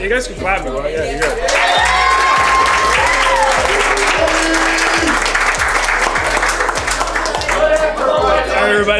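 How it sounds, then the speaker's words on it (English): A restaurant audience at a giant Texas Salisbury steak eating challenge bursts into loud, sustained applause and cheering, with whoops and shouts layered over the dense clapping and a low rhythmic thump of background music beneath. "You guys can clap, right?"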